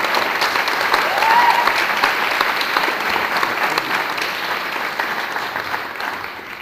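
An audience at a talk on the cultural boycott of Israel applauds, a dense, steady wash of clapping that holds strong throughout and eases slightly toward the end.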